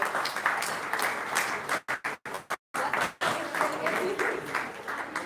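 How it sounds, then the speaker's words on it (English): An audience at a conference's closing plenary session applauds the team and volunteers with dense clapping, which briefly breaks off in short gaps before swelling back to a steady loud ovation. "you deserve a big hand to big applause"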